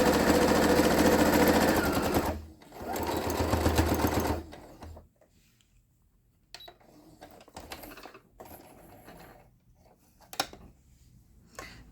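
A sewing machine quilts straight lines through fabric in two loud bursts of rapid stitching, followed by quieter intermittent clicks and handling noises.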